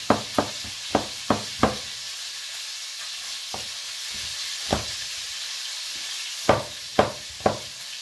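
Knife chopping garlic on a board for a pan chicken dish, sharp distinct taps in quick bursts with pauses, close and fairly quiet over a faint background hiss.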